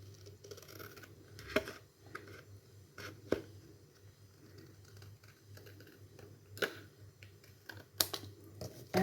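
Scissors snipping paper in a series of sharp, irregular cuts, close and fairly quiet, separated by brief pauses over a low steady hum.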